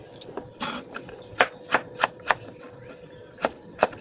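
A knife cuts through pork fat meant for sun-drying, a series of sharp, close chops landing at an irregular pace with a few softer handling sounds between them.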